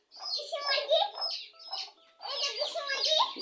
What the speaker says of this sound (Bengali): ওরে বাবার দেশি মুরগি, দেশি মুরগি